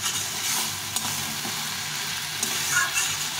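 Jackfruit curry with spices sizzles and fries in a pan, a steady soft crackle broken by a few scraping stirs, with no talk over it.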